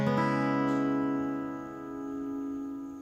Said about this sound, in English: The power chord is going to sound something like this instead.